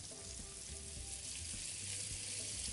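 Sole fillets fry skin side down in a hot pan, a steady bright sizzle with low crackle running continuously and fairly close, no voices.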